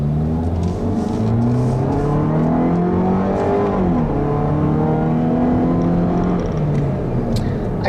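A 2013 Dodge Dart SXT with its 2-liter engine accelerates steadily on a test drive, its engine note climbing through several gear changes, loud and close and continuous throughout.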